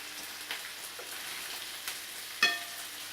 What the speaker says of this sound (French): je vais d'abord cuire les côtes d'agneau